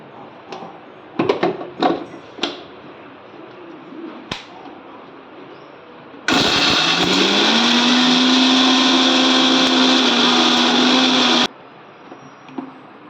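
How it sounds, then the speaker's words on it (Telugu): A mixer grinder whirs loudly for about five seconds while grinding coconut chutney, rising to a steady high whine after a few kitchen clatters and knocks, then cutting off abruptly. "ఇప్పుడు మిక్సీ పట్టుకుందాం."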